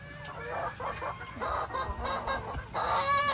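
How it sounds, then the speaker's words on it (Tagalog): Several chickens cluck excitedly at feeding time, with irregular bursts of clucking close by and a few crowing-like calls over a steady farmyard background. "excited yung mga manok na kumain"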